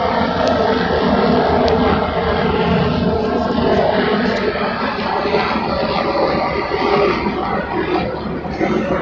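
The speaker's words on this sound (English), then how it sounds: "oh, we've got a helicopter going by." Army helicopter flying overhead across a storm-damaged town, a steady loud broadband rotor and engine roar that holds throughout without a clear rise or fall.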